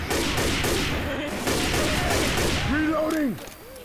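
Rapid gunfire in the game Left 4 Dead 2, shooting at barrels: a dense, loud burst of fusillade-like shots running for about three seconds before cutting off, followed by brief tonal game effects and a voice speaking.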